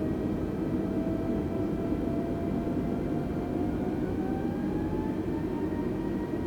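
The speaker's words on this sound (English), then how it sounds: "Take some thrust there to get the aircraft moving." An Airbus A320 in Microsoft Flight Simulator 2020 spools up its engines for taxi, a steady broadband roar with a faint tone that slowly rises in pitch, heard alone.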